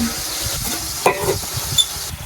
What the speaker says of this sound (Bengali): আলুটা প্রায় ভাজা হয়ে গেছে